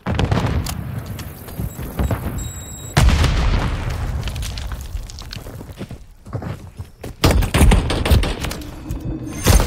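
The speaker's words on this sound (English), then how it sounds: "Stun grenade out!" A stun grenade bursts with a heavy boom during a Modern Warfare III match, heard against constant gunfire, footsteps and game effects in a dense, loud mix.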